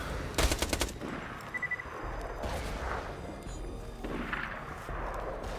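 Automatic gunfire from a gun in the video game Borderlands 2: a quick, loud burst of rapid shots early on, followed by a busy, noisy stretch of game sound with no speech.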